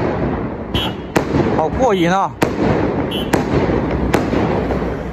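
Fireworks and firecrackers going off at a village feast in Fujian at night, a rapid series of sharp bangs and crackling bursts with a whistling rocket, loud and nearby, as a voice exclaims briefly.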